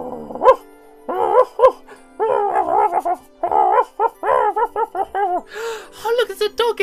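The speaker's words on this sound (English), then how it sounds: "I got myself my first dog." A tamed dog in Minecraft on Xbox gives a rapid run of short, loud barks and yips, with a few whiny tones near the end.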